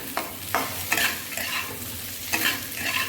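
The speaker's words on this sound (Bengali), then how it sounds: "আর এখানে দেখুন, এখানে ভাজছি।" Food fries and sizzles in a wok in a home kitchen, with a steady hiss broken by repeated scraping stirs of the spatula, close and alone without speech.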